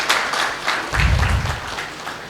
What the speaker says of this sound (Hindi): एक बार ताली बजाओ उस बच्चे के लिए.